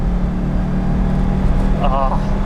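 A 1980s Lamborghini Jalpa's V8 engine accelerating onto the highway, heard from inside the car as a loud, steady, deep rumble that fills the whole clip, with a brief higher whine near the end.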